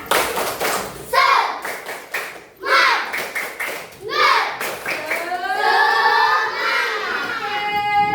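A primary school class does a rhythmic spirit clap in the classroom near the end of a lesson, bursts of group claps alternating with children's chanting voices, close and lively.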